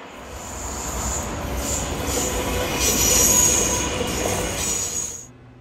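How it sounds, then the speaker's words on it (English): The ZEMU hydrogen fuel cell passenger multiple unit train passes close by in Redlands, California, its wheels squealing high and steady over a rolling rail rumble that swells mid-pass and then cuts off, with no talk. "This is North America's first hydrogen train, and it just launched today in Redlands,"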